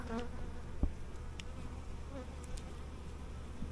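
Honeybees buzzing around an open hive full of brood during an inspection, a faint, steady hum with individual bees passing close by now and then, with no talking.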